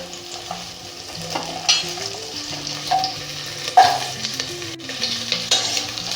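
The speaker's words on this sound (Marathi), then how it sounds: "चांगलं या तुपामध्ये परतायचं।" Carrots frying and being stirred in two spoons of very hot ghee for pav bhaji, a steady sizzle with scraping spoon strokes and soft clinks throughout, while a faint melodic tone line plays underneath.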